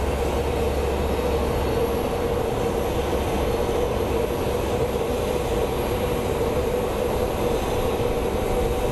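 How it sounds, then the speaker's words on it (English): An Alaska Airlines airliner from Portland arrives at Phoenix Sky Harbor, its engines making a steady, loud roar that holds without a break from start to finish, with no voices over it. "And here comes our Alaska Airlines from Portland."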